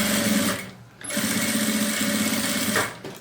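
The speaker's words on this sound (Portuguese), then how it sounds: "vou costurar aqui do outro lado." A sewing machine stitches the side of a small DIY zip pouch in close, loud runs of rapid needle chatter, pausing briefly near the start and again just before the end.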